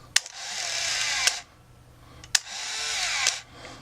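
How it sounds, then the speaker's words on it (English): Two cycles of a Canon AF35ML camera's motorized film advance: each starts with a sharp shutter click, then a whirring, grinding motor buzz of about a second ending in a click, heard close and loud with no film loaded. "This has got a weird film advanced noise"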